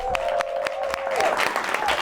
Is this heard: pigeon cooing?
no